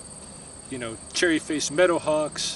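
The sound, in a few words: crickets chirping outdoors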